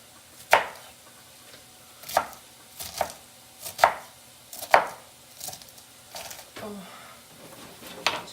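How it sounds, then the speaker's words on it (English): A knife chops iceberg lettuce on a board in a home kitchen, about nine crisp, crunchy strokes at an uneven, unhurried pace, close and clear with no talking. "I'm just gonna start chopping it."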